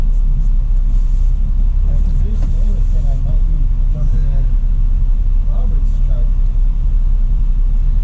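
A large truck's engine rumbles continuously and loudly while driving, a deep steady drone with brief muffled voices underneath.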